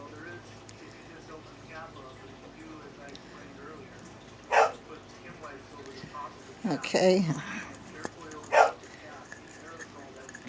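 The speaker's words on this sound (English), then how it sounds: "Sorry, my dog is barking." A pet dog barks a few times indoors, short sharp yaps with a whimpering cluster between them, mid-distance, over low background noise while a person says a short word.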